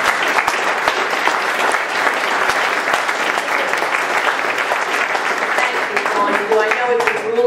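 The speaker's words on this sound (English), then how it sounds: "So I think we should give her a round of applause." An indoor audience at an evening event with a New Jersey senator applauds a county chair, loud dense clapping running steadily throughout with a faint voice underneath near the end.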